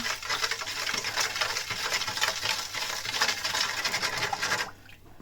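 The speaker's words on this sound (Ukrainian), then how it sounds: "Все це розмішуємо." A spoon or whisk stirs pizza dough mixture with yeast rapidly in a bowl, a continuous scraping, swishing rhythm close by that stops abruptly near the end.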